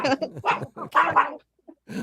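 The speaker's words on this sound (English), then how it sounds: "I hear a dog." A dog barks in quick, loud bursts close by, indoors during an online Shabbat service, with a short pause before a final yip.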